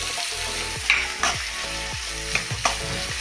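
Chopped onion sizzles loudly in a spoonful of hot coconut oil as a utensil scrapes and stirs the pan in several quick strokes, with no voices.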